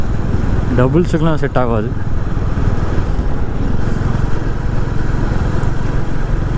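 A rented Royal Enfield Bullet motorcycle runs with a loud, steady engine drone throughout, close and continuous, while someone speaks briefly over it near the start.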